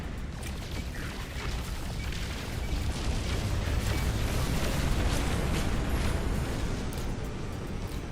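Photon cannon fire and explosions in the video game No Man's Sky form a continuous, rumbling barrage of booms and bursts that swells louder midway and stays dense and loud to the end.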